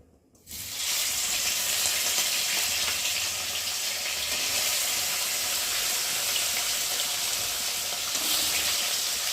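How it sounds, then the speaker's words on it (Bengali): Phasa fish pieces rubbed with salt and turmeric drop into hot oil in a wok. A loud hiss bursts up at once and holds as a steady, close, dense sizzle throughout. "এই যে নুন হলুদ মেখে রাখা মাছগুলোকে দিয়ে এবার একে একে ভেজে নেব।"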